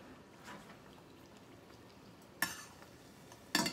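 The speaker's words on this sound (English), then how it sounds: "So I'm gonna test one of them out and see if the oil is hot enough." A single cinnamon-dusted sweet plantain chip drops into hot oil to test it, a sharp sizzling burst near the end after a quieter stretch, with an earlier sudden crackle, close and with no talking.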